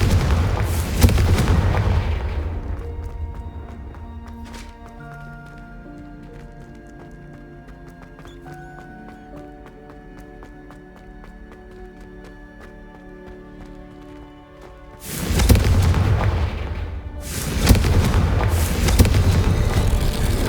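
Confringo explosive spell blasts from Hogwarts Legacy, two loud booming bursts at the end after a long stretch of quieter sustained game music and ambience.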